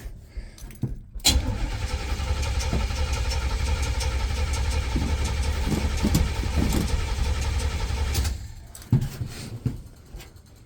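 A car engine cranks and catches, then runs at a rough, steady idle for several seconds before cutting off, loud and close with a few faint clicks afterward.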